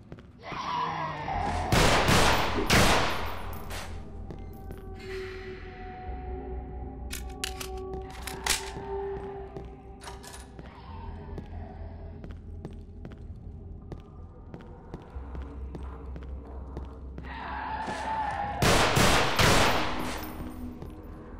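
Gunfire in the horror shooter Underhell, with loud bursts of rapid shots at the start and end and scattered single shots and clicks in between over a low ambient game drone.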